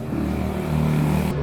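Scrambler-style motorcycle engine running steadily with a low rumbling idle that rises slightly in revs, close by and continuous, no talk over it.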